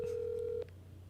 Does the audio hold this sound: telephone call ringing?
yes